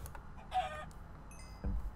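Chickens in the Minecraft video game give a short cluck, then a second brief cluck after a pause, fairly close and clear over quiet game ambience.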